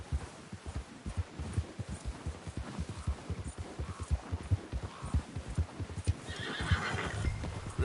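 Horse riding in a PS4 video game, with steady rhythmic clip-clop hoofbeats and snorting at a canter, close and continuous, plus a neigh or whinny and rising wind noise toward the end.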